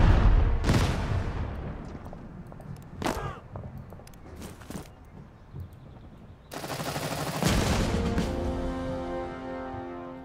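Gunfire and explosive blasts in the WWII tank strategy game Total Tank Generals, set in the Operation Bagration campaign: sharp shots and bursts through the first half, then a dense, loud barrage of fire rolling on to the end.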